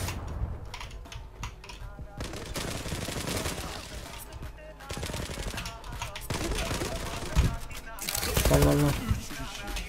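Automatic M4 rifle fire in a shooter game, the rifle fitted with full transform attachments: several rapid clattering bursts come in waves at close range and get louder toward the end, mixed with keyboard-like clicking.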